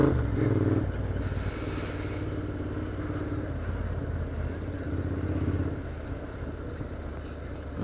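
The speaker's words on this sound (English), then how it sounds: "This car just limping along." A car limping along, heard as a steady, fairly loud engine and road rumble that runs continuously through the whole stretch, with a brief brighter noise near the start.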